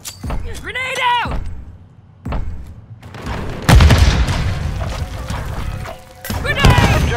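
Grenade blast in the video game Call of Duty Modern Warfare III: a heavy, loud boom with crashing debris cuts through game chatter and radio voices, followed by another strong impact near the end.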